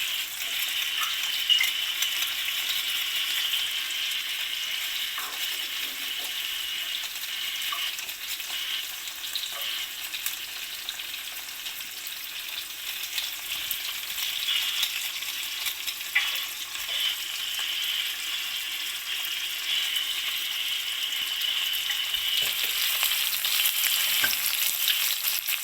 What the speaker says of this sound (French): donc ensuite vous remuez